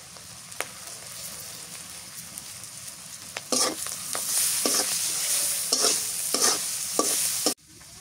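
Dried shutki fish sautés and gets stirred in a pan, a constant sizzle with repeated scraping spoon strokes that grow louder midway, then cut off abruptly near the end, with no speech.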